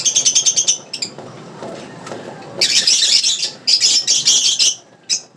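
A nesting hen squawks in loud bursts of shrill, rapid calls, pausing briefly with softer rustling between bursts, close by and with no talk.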